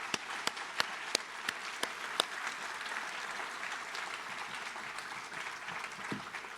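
Audience applause thanking event staff at a pro bono recognition celebration, steady broadband clapping from a crowd filling the room, with a few sharper individual claps standing out early on.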